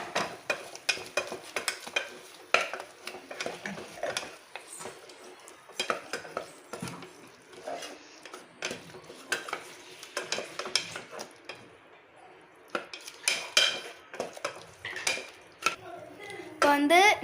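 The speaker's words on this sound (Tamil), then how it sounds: "இப்போ நல்லா பச்சை வாசனை போகிற வரைய வதக்கிக்கலாம்." Ingredients sautéing in a pan for homemade crab soup, with a steady clatter of a spoon stirring and scraping against cookware over a soft sizzle, loud and close throughout.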